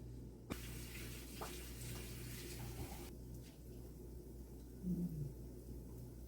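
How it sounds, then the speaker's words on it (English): A kitchen tap runs steadily as hands are washed beneath it, a soft continuous hiss and splash heard faintly and alone, with a brief clatter near the start. "Gotta wash my hands."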